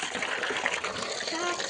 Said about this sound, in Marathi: अगं टाकलं पाणी मग काय अंगावर पाणी टाकलं मोनानं